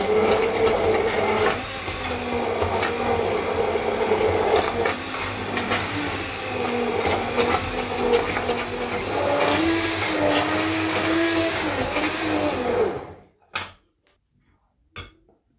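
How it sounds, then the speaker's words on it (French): A blender whirs steadily, blending tomato pizza sauce for a homemade pizza, a continuous loud motor drone for about thirteen seconds that cuts off abruptly, followed by a couple of faint knocks. "Je viens mixer la sauce tomate, la sauce à pizza"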